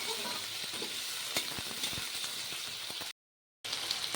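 Cut potato pieces fry in a pan with a steady sizzle and occasional stirring clatter, fairly faint and continuous, broken by a short gap of silence near the end.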